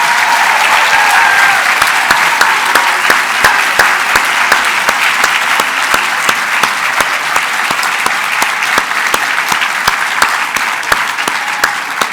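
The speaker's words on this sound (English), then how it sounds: "give a collective round of applause to those graduates here" Collective applause for graduates at The Oakridge School Class of 2020 ceremony, a long, loud, steady round of clapping from a large crowd, with a few sharper nearby claps punctuating the wash.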